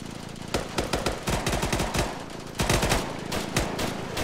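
Machine gun fire in a combat video game, sustained rapid bursts of loud close shots with short pauses between volleys and no talking.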